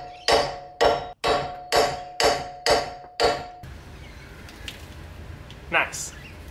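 An ABS sensor being hammered out of an AU Ford Falcon, seven sharp metallic strikes in a steady rhythm, close and loud, then quieter shuffling with a brief voice.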